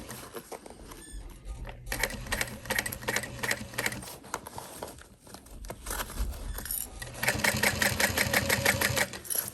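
Sewing machine stitching through layers of fabric for a Betsy Bowler bag, running in bursts of rapid mechanical chatter with short pauses between runs, close and steady.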